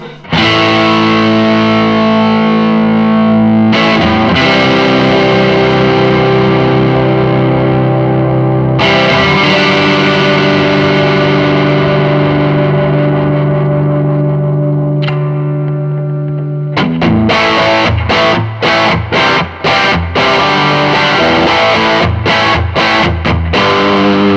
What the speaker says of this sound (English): Now if I take this up to about 3/4 or just before, that should take us into some really hairy gain